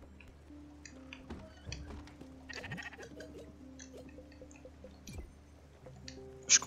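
Sheep bleating in the video game Spiritfarer, a few soft scattered bleats mixed with squishy, dripping game effects over quiet ambient music.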